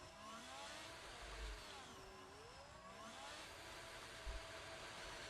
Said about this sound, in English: that engine noise of that Haas is disturbing